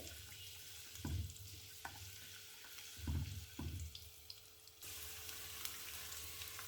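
Small chunks of garlic and ginger fry for black pepper chicken, a soft, fairly quiet sizzle interrupted by several low thumps and stirring knocks, then becoming steadier and brighter toward the end.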